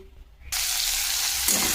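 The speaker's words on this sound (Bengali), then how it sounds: "এবার তেলের মধ্যে দিয়ে দেবো সবজিগুলো" A quiet moment breaks into a loud, steady hiss of vegetables frying in hot oil, sizzling continuously and close up.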